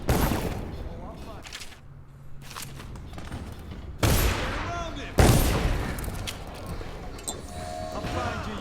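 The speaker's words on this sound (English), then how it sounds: "Firing." Rapid in-game gunfire from the stealth action game Dishonored, with sharp bursts and loud cracks at around four and five seconds, then decaying echoes and scattered impacts, under a voice and game noise.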